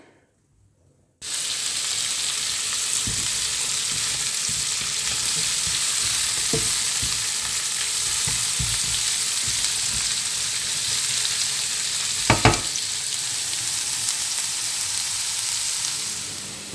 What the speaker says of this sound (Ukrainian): Так, досмажила вже цибулю з морквою